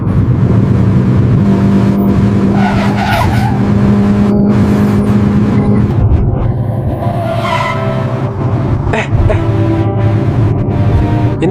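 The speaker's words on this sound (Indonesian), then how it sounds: "Tolong pelanin mobilnya." A car being driven much too fast, its engine and road noise forming a loud, steady roar that never lets up, with no voices over it.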